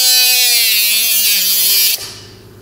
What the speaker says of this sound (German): So, und dann säge ich jetzt hier eine Ecke raus.